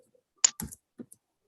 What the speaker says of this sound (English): Can you see what I'm typing?